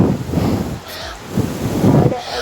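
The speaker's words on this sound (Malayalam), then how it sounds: "നല്ല കാറ്റുണ്ട്" Strong wind inside a forest rushing and buffeting the microphone in heavy low rumbling gusts that swell, dip briefly, then build again.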